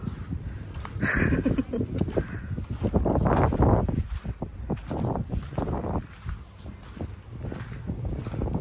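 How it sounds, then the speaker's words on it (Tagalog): Wind blows over Chigasaki Yanagishima beach campsite on the Shonan coast in summer, a steady rushing gust buffeting the microphone with low rumbling bursts throughout. "Uy, sarap naman ang hangin dito."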